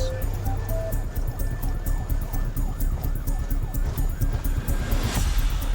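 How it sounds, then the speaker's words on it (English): A UK ambulance races on blue lights, its siren wailing in a repeating rise and fall over loud, steady road and engine rumble from inside the vehicle, with faint sounds of voices. "We're coming as quick as we possibly can on blue lights and sirens."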